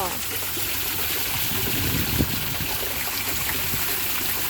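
A waterfall pours in a steady broadband rush of falling water, constant and fairly loud, with one brief louder splash or knock partway through.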